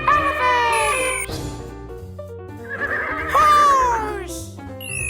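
A voice imitates a horse neighing with two wavering whinny calls, close and loud, over a steady musical backing of sustained tones, in a children's animal-sounds program.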